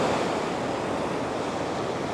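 Steady ocean surf at a beach in Da Nang, a continuous broad wash of breaking waves with some wind, close and even throughout.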